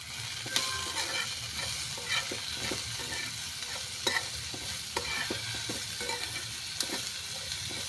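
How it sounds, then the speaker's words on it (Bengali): Capsicum and onion fry in oil with salt, turmeric and a green chilli, giving a steady close sizzle broken by scraping stirs at an uneven pace. "এবার এইগুলোকে একটু ভালো করে ভেজে নিচ্ছি।"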